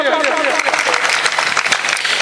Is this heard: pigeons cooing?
no